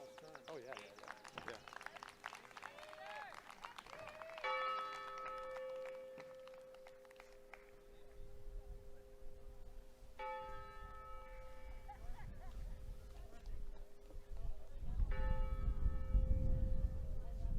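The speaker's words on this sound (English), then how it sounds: "they're still ringing bells" Church bells ring out at an outdoor 2020 Berwick Academy commencement, sounding in repeated bursts of clear, sustained tones with people talking over and around them.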